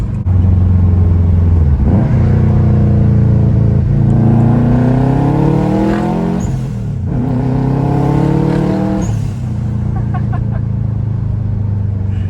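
A built Subaru Forester STI, now running more turbo boost, revs hard and loud up close, its engine note climbing and falling in repeated surges with no talking.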